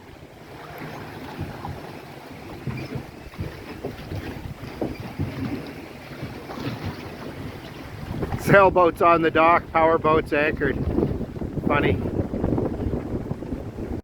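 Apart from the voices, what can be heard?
strong gusting wind at a lake dock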